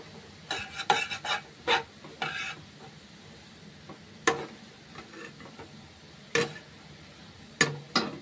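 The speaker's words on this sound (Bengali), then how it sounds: "তার মধ্যে পেঁয়াজ কুচি দিয়ে দিচ্ছি।" Chopped onion goes into a frying pan, giving a soft sizzle beneath intermittent sharp taps and scrapes of a utensil stirring against the pan, all fairly quiet and close.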